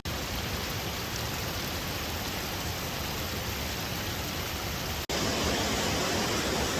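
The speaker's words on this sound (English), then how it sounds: "To me, the sound of water is so healing." Steady roar of flowing water at a waterfall in the Twin Falls area, a dense, unbroken rush heard up close and loud, with a brief cut near the end before it resumes.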